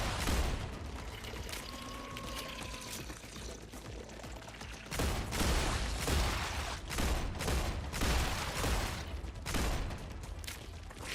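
Continuous, dense gunfire from shooting bugs in the video game StarRupture, loud and unbroken, with heavy rapid bursts across the whole stretch and no talking.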